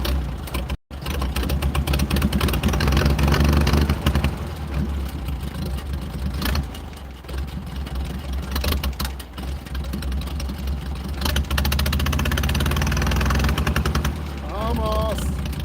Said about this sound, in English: See how it wants to die? I'm finessing the choke right now.